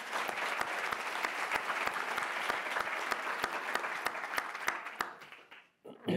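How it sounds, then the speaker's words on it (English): Sustained applause from a crowd, dense steady clapping that continues for several seconds before tapering off near the end. "A round of applause for all of them."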